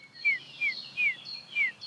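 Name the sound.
bullfinch call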